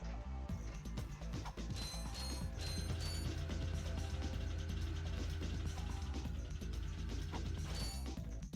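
Clanking mechanical gears and ratcheting from an elevator mechanism in the Ratchet & Clank video game, a steady dense grind with repeated metallic clicks and knocks under a continuous low hum, loud and close throughout.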